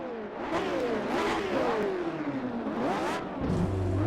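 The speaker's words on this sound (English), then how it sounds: "let's head over to Imola into our vintage Formula One car where we can demonstrate this concept" A vintage Formula One car launches at Imola, its engine revving hard through rising and falling gear sweeps, loud and close, then settling into a low steady tone near the end.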